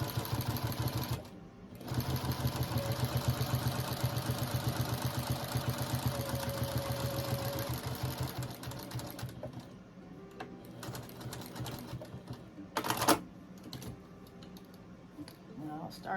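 A sewing machine stitches crisscross quilting lines across a rag quilt, a fast steady mechanical whirr that runs for several seconds, drops out briefly, then carries on more quietly with a few pauses and clunks.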